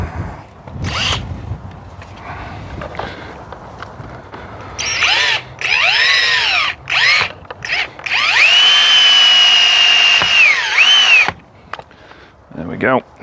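A power drill drives screws through a Myenergy Zappi EV charger into a wall, with several short whining bursts and then one long, steady run that winds down. A few brief clicks and rustles come between the bursts.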